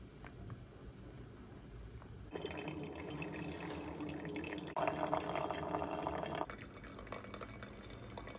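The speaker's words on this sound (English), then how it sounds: "make myself and whoever else wants one a pour over coffee" Hot water poured over grounds for a home pour-over coffee, a soft steady trickle that swells into a fuller stream and eases again, quiet and close with no voices.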